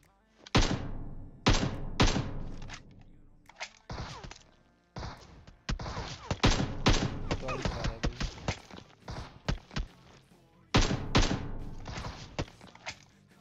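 Bursts of gunfire in PUBG Mobile, with sharp shots and short volleys repeating throughout, loud and close, broken by brief gaps.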